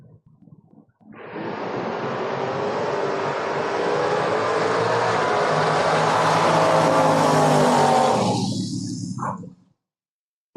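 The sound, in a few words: drag race cars launching, including a Mustang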